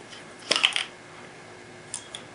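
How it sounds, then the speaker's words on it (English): A Streamlight Scorpion flashlight has its top unscrewed, giving a quick close cluster of small clicking, scraping handling sounds, then two faint ticks a moment later. "To put the batteries in, you would just unscrew the top part here."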